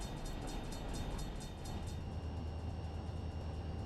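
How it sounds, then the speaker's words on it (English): A freight train on the San Bernardino Sub rolls steadily after setting out loaded grain hoppers. A continuous low rumble of wheels and cars carries throughout, with rhythmic clicking early on and a faint high tone from the horn. "I could tell already the train's a lot lighter with all those."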